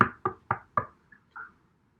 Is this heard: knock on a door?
yes